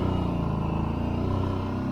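Kawasaki Brute Force 750 ATV with CVT transmission engine braking, a steady low droning engine note held close and fairly quiet, no talk.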